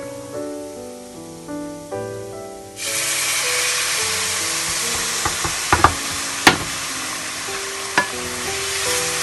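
Mawa being stirred in a hot pan while cooking, a steady broadband sizzle with scraping stirs and a few sharp clinks near the end, with background music playing.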